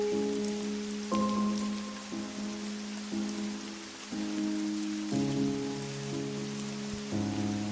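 Steady rain pours down continuously under soft sustained musical tones, a constant wash of falling water with no speech.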